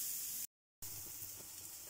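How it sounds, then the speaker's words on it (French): Shallots sweating gently with salt in a frying pan, giving a faint, steady soft sizzle and hiss throughout, interrupted by a short silent gap. "on va venir les faire suer légèrement avec un peu de sel dans la poêle"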